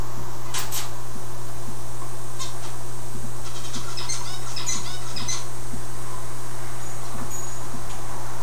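Pet birds in cages at a bird show give sharp, scattered squawks and chirps over a steady mechanical hum and a constant insect-like hiss filling the background.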